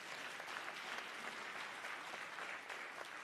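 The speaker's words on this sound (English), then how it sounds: "Can we please give them a huge round of applause?" Audience at a youth tourism summit in Africa applauding a panel, a dense, steady wash of clapping from a crowd that holds even throughout, moderately distant.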